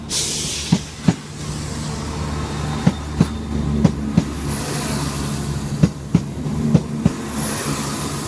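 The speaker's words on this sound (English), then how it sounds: "Now pulling into platform number 4 at Aberdeen" A ScotRail train rolls into a platform at Aberdeen station with a steady low rumble and a hiss. Sharp wheel clacks sound at uneven intervals as it comes in close.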